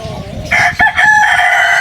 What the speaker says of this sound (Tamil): இது அந்த கருங்கோழின்னு சொல்லுவாங்க கடக்குன்னு சொல்லுவாங்க